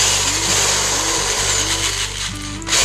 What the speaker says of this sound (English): I'm going to drill about halfway through.